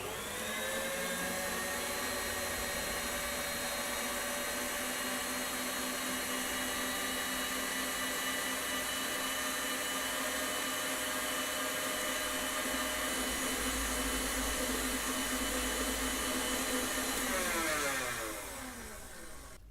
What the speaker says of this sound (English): we're going to mix this on high again